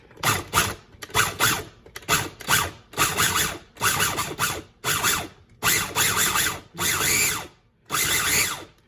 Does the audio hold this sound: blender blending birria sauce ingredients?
yes